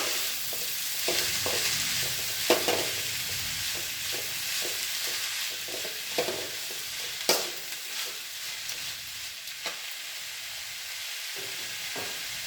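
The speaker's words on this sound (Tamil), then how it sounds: "முளைக்கீரை பொரியல் நல்லா ஒரு கிண்டி விடணும்." Amaranth greens stir-fry in a pan with a constant close sizzle, overlaid by repeated scraping and tapping strokes of a spatula stirring, a few sharper knocks standing out.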